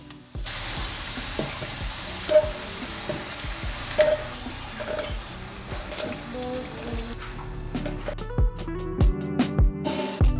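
Steady crackling sizzle of breaded potato slices frying in hot oil, loud and close, with occasional clinks of a utensil and a tap near the end.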